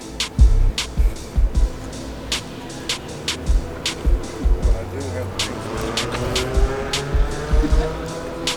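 A car engine revs and passes amid a busy outdoor crowd at a Daytona car show, with people talking nearby and sharp repeated clicks throughout.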